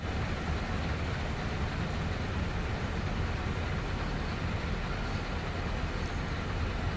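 A Train Sim World 2 mixed train rolls around Horseshoe Curve with a steady, dense rumble of wheels and wagons that holds constant and fairly loud for several seconds, with no voices.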